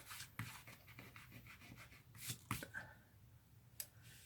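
Fingers rub firmly over tape stuck on a craft stamp, a close, soft scratchy friction with irregular strokes and a few sharper scrapes, quiet and without talking.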